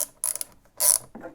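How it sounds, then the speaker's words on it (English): A wrench works a handguard clamp bolt on a KTM 790/890 Adventure, giving a few quick ratcheting clicks in two short bursts, close and crisp with silence between. "Now I'm going to tighten up this bolt here at the inner part of the clamp."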